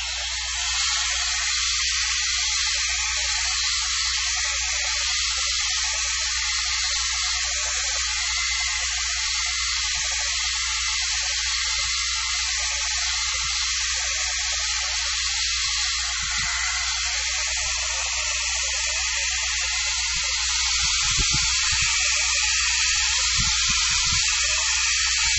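Hair dryer blowing over freshly painted acrylic, a steady loud whooshing hiss running throughout with a low motor hum beneath, switched to the cool setting partway, with a few faint knocks near the end.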